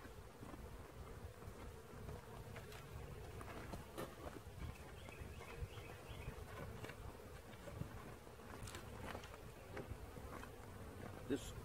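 A dense, steady hum of many honeybees buzzing close by at an open hive, continuous throughout with small shifts in pitch and a few louder passes.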